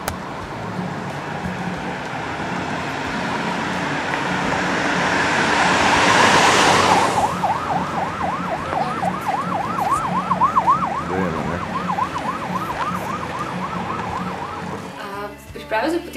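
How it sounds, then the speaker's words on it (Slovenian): An ambulance siren wails in the background of a film scene by a roadside, its oscillating tone rising out of a swelling noise wash and repeating steadily for several seconds, blended with music before fading out abruptly. "ko se sliši v ozadju sirena rešilca ali nekaj tako"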